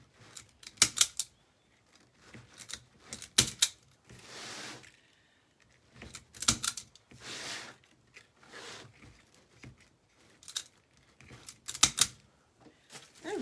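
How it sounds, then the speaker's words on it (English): Paper or thin craft material snipped with scissors, several short crisp cuts in quick bursts, close and fairly loud with pauses between, no talking. "Cut these off."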